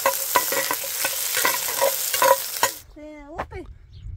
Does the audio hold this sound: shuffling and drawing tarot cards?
no